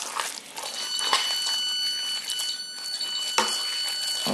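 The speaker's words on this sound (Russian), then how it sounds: "Это у меня сигнализация сработала." A home alarm goes off in a kitchen, a steady high electronic tone sounding continuously for several seconds at moderate loudness, with faint clatter underneath and no talking.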